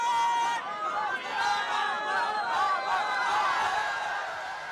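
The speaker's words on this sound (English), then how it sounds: "And you can hear the crowd now." A cricket stadium crowd roars and chatters in a continuous, excited wash of many voices, loud and sustained throughout with swelling surges.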